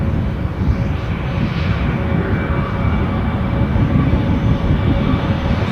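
An Air France Hop Embraer 190 takes off at Düsseldorf airport, a loud, steady, broadband engine roar and rumble that holds throughout.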